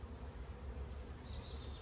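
Honey bees swarming around a hive, a low, continuous droning buzz that stays steady and fairly faint for the whole moment.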